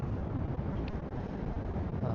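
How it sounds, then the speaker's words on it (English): Steady wind in New York City buffets the microphone with a low, rumbling roar, constant and close, with no other clear sounds. "it's pretty windy right now"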